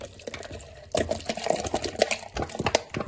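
Water splashes and trickles into a blender jar with yogurt for kadhi in short uneven bursts, close and fairly soft, with a few light knocks in between.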